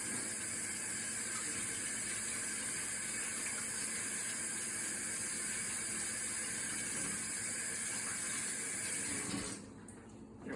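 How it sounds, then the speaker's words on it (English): Hands washed under a running tap, a steady, full rush of water that continues for most of the clip before cutting off near the end, with no voices. "How about we just wash it off instead?"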